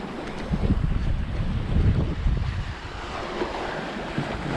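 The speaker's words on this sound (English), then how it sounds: "as you can see, we're sailing dead downwind" A sailboat running dead downwind at about 5 knots in 14 to 16 knots of wind, with steady rushing water, wash of waves and buffeting wind noise on the microphone throughout, no talking.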